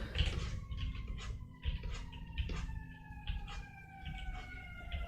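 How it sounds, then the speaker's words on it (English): A siren wails faintly in the background, its steady rising tones drawn out across the whole stretch beneath a busy indoor hum of small clicks and rustles. "I'm pretty sure you can hear the siren in the background"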